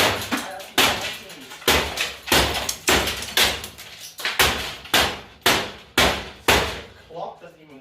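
A hammer smashes a broken oven with about a dozen sharp, loud, close blows in a fast, fairly regular rhythm, with metallic and glassy impacts.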